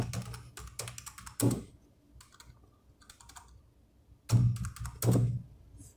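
Bursts of keystrokes on a computer keyboard while writing a leave application, arriving in quick irregular clusters with heavier thunks on the spacebar or enter key, close and fairly quiet, with pauses in between.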